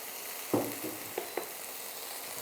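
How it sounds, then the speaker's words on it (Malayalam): Broccoli is tossed and stirred in a hot pan for a stir-fried broccoli salad, giving a soft sizzle with a few scraping clatters and light knocks against a steady low frying hiss. "ബ്രിക്കോളി ഇട്ടിട്ട് നല്ലോണക്കൊന്ന് മിക്സ് ചെയ്തെടുക്കണം നമുക്ക്."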